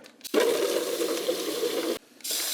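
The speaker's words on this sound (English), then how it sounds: "An old milk jug as my pot to pour this in" Kelp and fish fertilizer glugs steadily as it is poured into an old plastic milk jug, a sustained close liquid rush of about a second and a half that stops abruptly, with a brief rattle just before and after.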